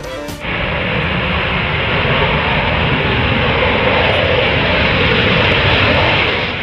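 A loud, steady drone from a King Air 350 turboprop aircraft that holds constant and close throughout, with no other sounds.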